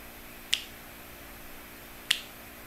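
Two crisp mouth-made snap sounds recorded for a trap beat, spaced about a second and a half apart, each sharp and short against faint background hiss.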